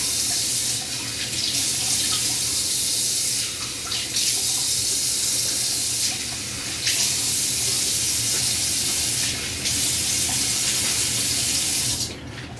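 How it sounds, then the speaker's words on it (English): Tap water runs steadily into a sink, with brief bursts of splashing as hands rinse and splash the face several times with hot then cold water after a shave. "I like to rinse with hot water and then cold water."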